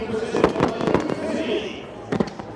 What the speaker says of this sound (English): Fireworks brought to you by OEB Law